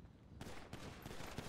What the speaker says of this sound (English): Oh, she got a ceramic pistol?